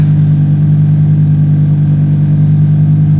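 A Lamborghini engine in Corsa mode runs loud and steady with a deep, even drone that holds without any revving.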